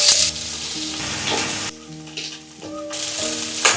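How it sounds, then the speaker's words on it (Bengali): Chicken pieces fry in hot oil in a pot, giving a loud, crackling sizzle that surges and eases in waves with stirring, close up and without voices. "হাঁড়ি গরম হয়ে এলে দিয়ে দিব সামান্য পরিমাণ তেল, দিয়ে দিব মুরগির টুকরো।"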